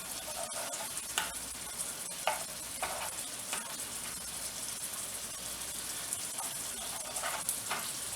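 Regular, fairly greasy ground hamburger sizzles and fries steadily in a pan while a spatula breaks it up, with soft scraping strokes cutting through the frying.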